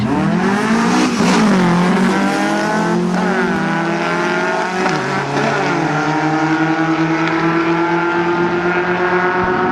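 Drag racing cars scream down the strip at a 2006 event, loud high-revving engines sweeping upward through gear changes, with a brief tire chirp, close and sustained throughout.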